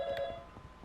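Phone keypad dialing tones sound in the video game YIIK: A Postmodern RPG, a quick faint electronic beep sequence with a short higher blip, heard alone at low volume.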